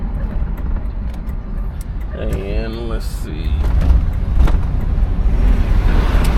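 A 1975 Pontiac Grandville drives along under light throttle, a steady low engine and road rumble from inside the car with wind noise, swelling slightly; someone speaks briefly over it.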